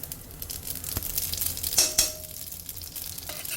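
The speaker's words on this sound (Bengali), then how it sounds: "তেল হালকা গরম হয়ে গেছে এখন দিয়ে দেব একটা শুকনো লঙ্কা আধা চা চামচ কালো জিরা আর এক টেবিল চামচ পোস্ত দানা" Dry red chili, nigella seeds and poppy seeds frying in warm oil in a pan, a soft continuous sizzle with a few clinks of a utensil and light stirring scrapes, close and with no talking.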